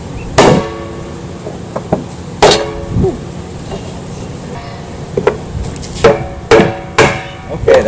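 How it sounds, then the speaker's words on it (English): Steel rings are hammered off a wooden barrel in a run of sharp, loud metallic blows at an irregular pace, some single strikes and some in quick pairs, with faint background noise between. "So now I'm going to take all these rings off."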